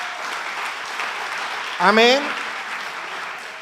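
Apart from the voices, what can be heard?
congregation applauding in church service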